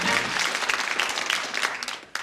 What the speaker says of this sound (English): Give them a nice warm round of applause.